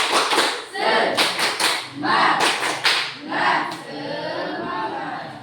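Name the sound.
class doing the rhythmic 'tepuk semangat' spirit clap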